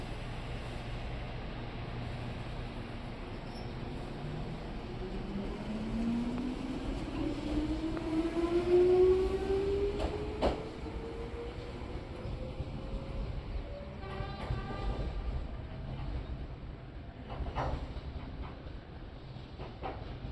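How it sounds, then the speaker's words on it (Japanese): On the Jomo Electric Railway, a retro-toned electronic departure bell rings at the platform. The train then pulls slowly away, its motor whine rising steadily in pitch over a continuous rumble, with some faint clicking wheel sounds near the end. "レトロな音色の電子ベルが鳴り響き、乗り遅れているお客様がいないか確認してから、列車はゆっくりと発車していきます。"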